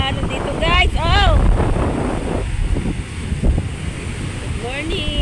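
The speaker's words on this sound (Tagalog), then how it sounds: "Naku po, ang lalaki na ng alon dito guys!" Big ocean waves and gusting wind roar steadily at the shore, a constant broadband rush with microphone buffeting, while people talk over it.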